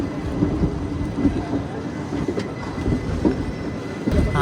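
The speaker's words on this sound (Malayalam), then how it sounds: "ആയപ്പോൾ തന്നെ നമ്മുടെ വണ്ടി ഇവിടെ നിന്ന് വിട്ട്" A special passenger train pulls out and runs along the rails, a loud rumbling roll with repeated clacks and jolts from the wagons that builds again near the end.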